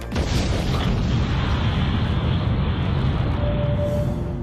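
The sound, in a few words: casino building implosion in Las Vegas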